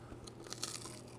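A few crisp crunching bites into a baked pizza dough snack topped with soft cooked tomatoes, close and fairly quiet, with chewing between the crunches.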